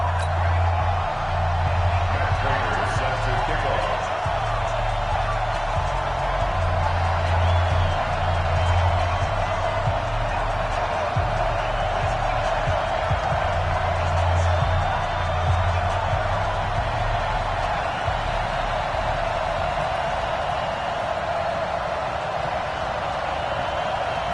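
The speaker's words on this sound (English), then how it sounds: "This crowd is ready as their guys get set to match up between the Oakland Raiders and the Kansas City Chiefs." A stadium crowd roars steadily at an EA Sports NFL game between the Oakland Raiders and Kansas City Chiefs, a dense wall of cheering and noise sustained throughout with a low rumbling bed beneath it.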